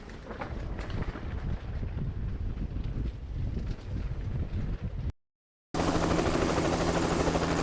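A steady, loud rotor roar of a helicopter washes over the scene with wind buffeting, briefly cutting out before resuming even louder.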